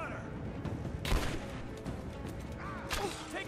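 Gunfire in the video game Rise of the Tomb Raider, a couple of sharp shot bursts over a busy background of in-game noise, with no voices in the moment.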